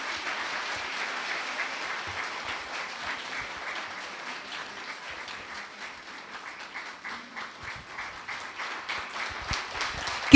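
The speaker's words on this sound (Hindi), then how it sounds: "तालियां बजती रहे।" An audience applauds at a drama performance in a meditation class, steady dense clapping held at an even level throughout, with no voices over it.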